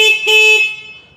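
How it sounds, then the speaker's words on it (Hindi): Horn of a 2023 Ramza 100cc scooter by New Asia, sounding close and loud as two quick overlapping honks that cut off and leave a short fading tail. "हॉर्न का ऑप्शन काफ़ी अच्छा है।"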